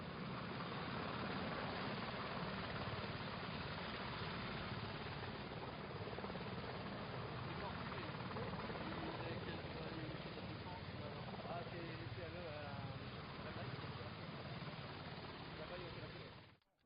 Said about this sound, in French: cet hélicoptère portugais qui se trouve juste derrière nous